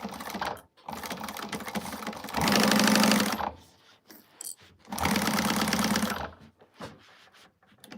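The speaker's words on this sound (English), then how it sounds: "so we're going to get this sewn on at the seam allowance that she gives" Sewing machine stitching a seam at the pattern's seam allowance, two loud bursts of rapid mechanical chattering separated by pauses, with softer slow stitching and handling noises in between.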